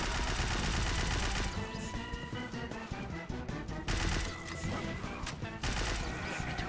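Rapid crit nail gun fire in the TF2 mod Open Fortress, a dense rattling barrage of shots that runs the whole time over game music, loud and close with brief lulls between bursts.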